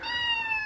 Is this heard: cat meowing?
yes